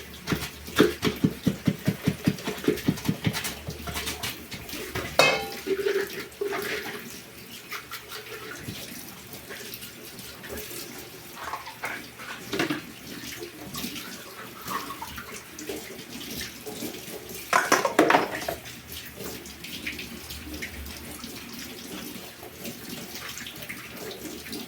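Tap water runs steadily while a baby feeding bottle is rinsed beneath it, with splashing and clattering handling noises up close and a few louder bursts of water along the way.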